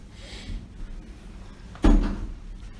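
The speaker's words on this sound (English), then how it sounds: "the last person can just close the door behind them" A door closes once with a single sharp thud inside a historic house built in 1683 in Dorchester, Boston, after a stretch of quiet room tone.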